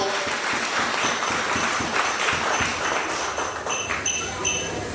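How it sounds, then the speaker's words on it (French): An audience at an event in a hall applauds, giving dense, sustained clapping that stays steady for several seconds. "qu'on applaudisse pour Compassion"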